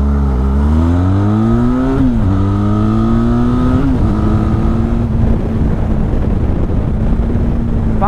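Up close and loud, a Benelli TRK 502 X motorcycle's engine and exhaust climb through several gears in steady rising pulls, then settle into a rough, rumbling drone with some crackle as the throttle eases off.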